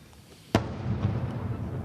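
A single sharp blast during Russian shelling of Nikopol near the Kakhovka reservoir, followed by a rumbling echo and low background noise.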